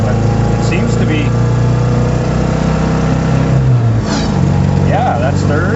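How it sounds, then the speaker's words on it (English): A 1974 MG Midget's engine drones steadily from inside the car at about half throttle near 50 mph, loud and continuous, with someone talking over it throughout. "I'm only at about half throttle, so we're doing about 50 miles an hour"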